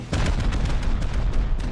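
Rocket explosions in the video game Rust during a raid, a dense run of heavy booms and blasts with rumbling low end, loud and continuous across the whole moment.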